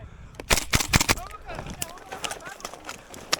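Noveske N4 gas blowback airsoft rifle fired during an airsoft game: a quick cluster of sharp, clacky shots, then scattered single pops, while players shout and talk close by.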